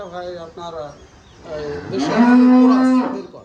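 A dairy cow of an Indian breed lets out a long, steady moo close by, following a few moments of people talking.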